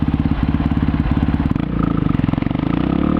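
A motorcycle fitted with an aftermarket Dory exhaust revs hard nearby, loud pulsing bursts that drop and then settle into a fast rhythmic idle-to-rev burble.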